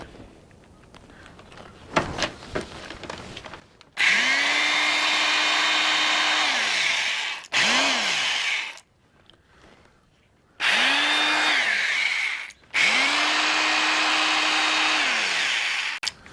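A power drill whirs up to speed in several bursts, some long and steady, one brief, with clicks and pauses between runs.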